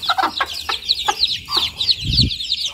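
A hen clucking in quick repeated calls, close up, alongside a chorus of high, rapid chick peeps.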